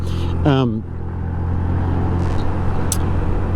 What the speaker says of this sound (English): Ooh, traffic.